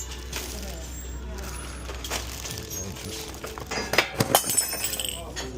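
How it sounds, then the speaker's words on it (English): A drinking glass breaks with several sharp clinks and shattering crashes near the end, loud and close, after a stretch of rustling and handling noise. "I just broke my first glass."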